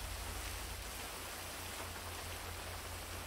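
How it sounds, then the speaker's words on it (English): Steady rain falling in a video game, a dense, even hiss of drops on surfaces that continues without a break. "I don't want to hold you up here in the rain any, any longer"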